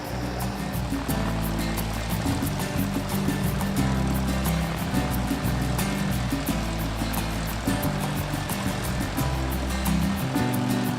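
A kit-built propeller airplane on a runway, its engine and propeller making a loud, steady droning roar with a rapid rhythmic pulse that holds throughout, with no voices.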